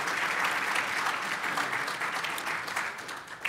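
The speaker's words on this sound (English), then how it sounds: "Another round of applause, please, for Brenda, Dr. McAfee, and Tyrone, please." An audience at an annual community tea event gives a round of applause, steady dense clapping heard from a distance that fades slightly toward the end.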